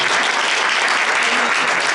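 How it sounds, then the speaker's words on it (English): Steady audience applause at a holiday magic show, dense and even from start to finish with no voices over it. "And all this applause is for you"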